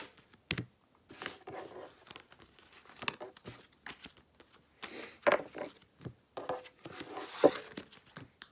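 A tarot card being drawn from a deck, heard as intermittent close paper rustling, shuffling and card-snapping bursts separated by quiet gaps, with no speech.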